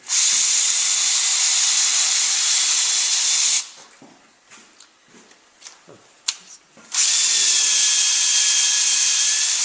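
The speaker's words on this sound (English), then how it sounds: "I didn't realize we've all been drilling in the slower speed option, which doesn't work as well" A loud, steady high-pitched electric drill whine on its slower speed setting runs for several seconds, stops for a few seconds of faint clatter, then starts up again just as strongly.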